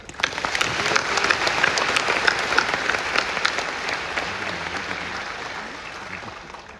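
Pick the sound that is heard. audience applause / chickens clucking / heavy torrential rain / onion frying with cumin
audience applause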